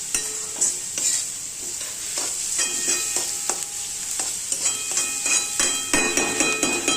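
Onion and turmeric frying in oil for pea and potato poha, a close, steady sizzle broken by frequent clinking and scraping of a metal spatula against the pan, with no talking.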